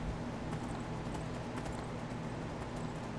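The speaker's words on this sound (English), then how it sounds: "I'm pretty certain my horse sounds like a monkey." Hooves clip-clop in a steady walking rhythm as a horse moves in the Skyrim video game, moderately loud over a constant background wash.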